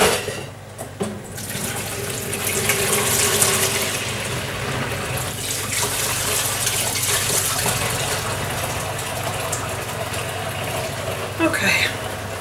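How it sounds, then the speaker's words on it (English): Hot water runs from a tap into a bucket during handmade soap making, a loud, steady gushing splash that holds for the whole stretch with a brief bump near the end. "So I just fill up my bucket with hot water so it makes cleaning up that bit easier."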